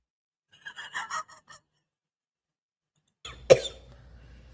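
A woman's coughing fit from a played video clip: a quick burst of several dry coughs, a pause of silence, then a sharp gasping cough with a trailing wheeze.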